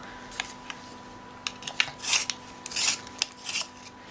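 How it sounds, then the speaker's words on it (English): A pencil being sharpened with a small hand sharpener at a desk during a colouring session, quiet scraping and grinding strokes in short irregular bursts with brief pauses between them. "I'm going to just sharpen my pencil."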